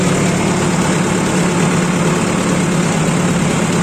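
Tractor engine idling steadily in first gear at about 1100 rpm during a crop-spraying run over a maize field, a loud, constant low rumble with vibration and no voices.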